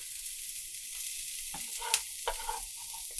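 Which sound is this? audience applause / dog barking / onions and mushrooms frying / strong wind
onions and mushrooms frying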